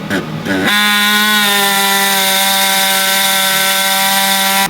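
A saw blade cuts through hardened turbo outlet bolts on an SL63 AMG, a loud, steady high-pitched whine with strong ringing overtones that holds continuously after a brief start.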